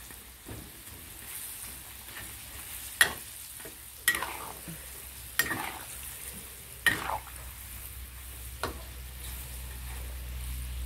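Pork belly deep-frying in hot rendered fat on high heat, a constant crackling sizzle with several sharp scrapes and stirring knocks at irregular intervals, moderately close, no voices.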